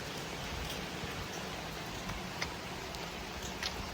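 Steady heavy rain pours down outdoors in a rural setting, a dense even hiss with scattered sharper drops and ticks on surfaces, no voices.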